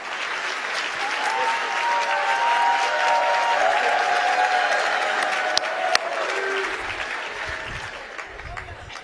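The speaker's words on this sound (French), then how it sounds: "Est-ce qu'on peut l'applaudir?" Audience applause at a church gathering, sustained clapping from a crowd with a voice talking over it, fading toward the end.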